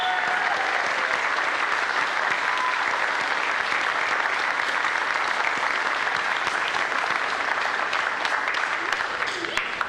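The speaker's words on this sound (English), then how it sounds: "let's applaud and welcome them with your applause" A church congregation applauds to welcome new members, steady dense clapping filling the room for the full stretch without pause, loud and sustained, with faint voices mixed into the crowd.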